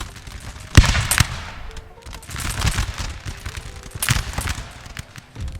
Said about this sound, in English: They are firing towards the forest,